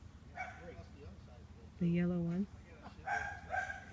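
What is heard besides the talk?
neighbor's dog barking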